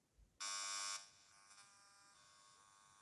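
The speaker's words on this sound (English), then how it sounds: "Cordless telephone." Electronic buzz from cordless telephone radio frequency radiation rendered as sound, a loud harsh tonal burst for about half a second, then settling into a steady, quieter buzzing drone that continues alone.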